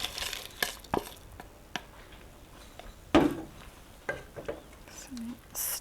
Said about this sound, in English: So stir this up.